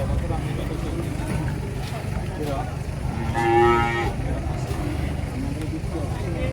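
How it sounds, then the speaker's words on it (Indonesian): A large cow lows once, a drawn-out moo rising midway through steady outdoor background noise, with people talking nearby. "Tapi ini sapi guys, bukan kuda ini."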